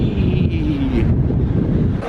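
Steady, loud wind buffets the open deck of the Celebrity Apex cruise ship, a constant rumbling gust roaring against the microphone with no talk.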